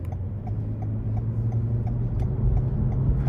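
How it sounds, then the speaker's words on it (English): Inside a 2023 Toyota Camry XLE 3.5 on the road, a low, steady rumble of tire and road noise hums beneath faint, evenly spaced ticking, with no talk. "If you listen for the tires, you can hear them just a little bit"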